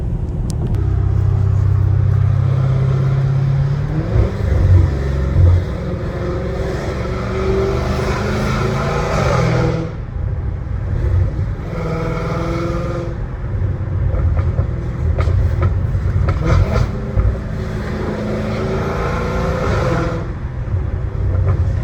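A supercharged 850 hp Dodge Hellcat Redeye engine revs hard and loud up close, its deep continuous rumble surging and dipping across the whole stretch with no voices.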